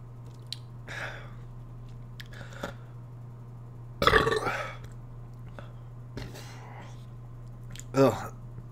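Harsh throaty burps after drinking Delirium Nocturnum, a dark Belgian strong ale, with a loud burst around the middle and another near the end, plus softer mouth and swallowing noises between them.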